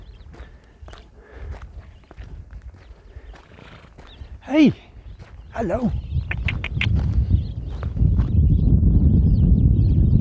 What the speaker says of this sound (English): Here are the donkeys that welcomed us so much.